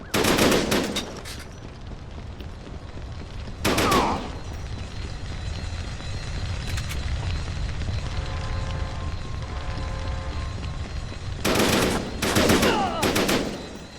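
Gunfire in Syphon Filter: The Omega Strain comes as loud, repeated bursts of several rapid shots with short echoing tails, separated by quieter stretches of low ambient hum.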